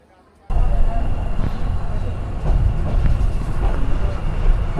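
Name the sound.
Rangpur Express train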